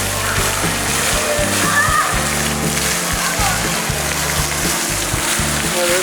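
Water splashes and sloshes continuously in a public fountain in Munich, a steady close wash of falling water with no talk.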